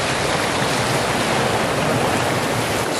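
A mountain stream flows near Mohini waterfall, giving a steady, close rush of water that holds even and unbroken throughout, with no voices.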